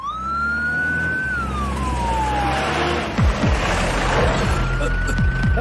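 Ambulance siren wailing loudly with a long rising and falling tone, joined midway by a burst of rapid rhythmic thumps beneath it.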